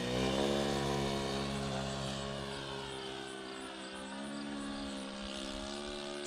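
Glow engine of a SIG Kadet Senior RC model airplane buzzing during a touch and go with idle set too fast, a steady droning whine shifting in pitch as the plane passes, moderately distant with no talk.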